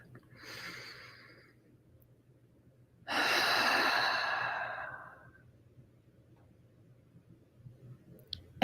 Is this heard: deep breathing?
yes